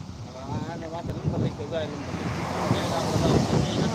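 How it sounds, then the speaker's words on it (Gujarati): Cool pre-rain wind rushes and rumbles against the microphone outdoors while a voice speaks over it, the gusts growing stronger toward the end. "ઠંડો ઠંડો પવન આવે છે"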